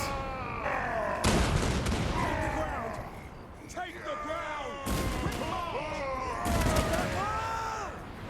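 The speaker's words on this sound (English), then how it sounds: "These organ guns really messed up those poor marauders." Organ guns fire during a Warhammer video game battle, heavy booming volleys bursting out in several separate blasts amid battlefield din and shouted voices.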